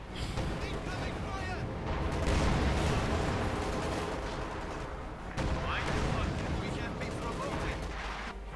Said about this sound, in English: Artillery fire versus the base.